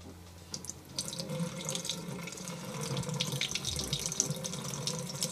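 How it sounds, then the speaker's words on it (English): Used HC-110 film developer poured from a developing tank into a sink, a steady splashing rush of liquid that runs without a break for about five seconds, close and fairly loud. "We need to pour the developer out."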